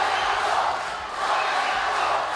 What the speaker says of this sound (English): the Zahira crowd has finally found their voice here at the Sugathadasa Stadium